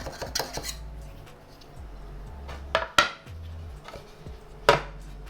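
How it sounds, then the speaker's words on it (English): A small palette knife scrapes and knocks around the inside of a tin holding a freshly steamed Ma Lai Goh sponge cake, giving a few sharp metallic clinks and light scraping strokes at close range with no voices. "take a small little palette knife, slide it around"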